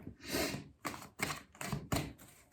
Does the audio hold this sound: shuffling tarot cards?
yes